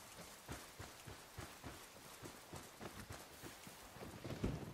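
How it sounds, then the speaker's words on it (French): Rain falls in the Ghost Recon video game as a soft, faint patter with steady rhythmic taps throughout and a slightly louder splash near the end, no voices. "Il pleut trop dehors. Moi, je suis trempé."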